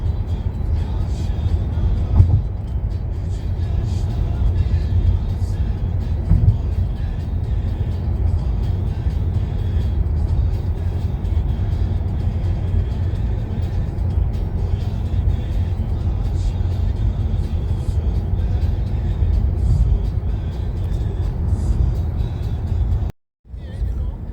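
A car idles and creeps along the road at the Serbian exit toward Bulgaria, its engine rumbling as a steady low drone from inside the vehicle for the whole stretch, with only a few other cars around.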